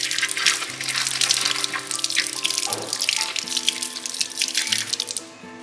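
Pandan leaves get rinsed under a running kitchen tap, water splashing steadily onto the leaves in the sink with shifting spatter as they are turned, easing off near the end.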